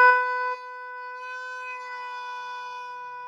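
An oboe holds one steady whole note, with a slight extra push of breath partway through. The tone is clear and sustained, played alone with no other sound.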